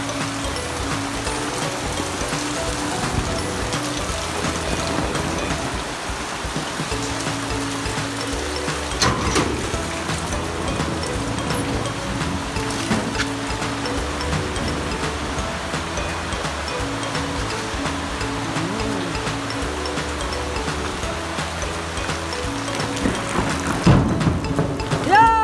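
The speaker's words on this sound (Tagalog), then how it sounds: "ulan na malakas." Heavy first rain in a rural Philippine province makes a steady, dense wash of falling water that holds evenly for the whole stretch, with a few faint knocks and little or no talk.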